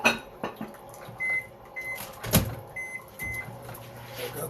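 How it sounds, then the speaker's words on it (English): A microwave oven heating oatmeal, with door and button beeps, short tonal chimes, a clunk and a low running hum, all fairly close, with no talk. "get that in the microwave"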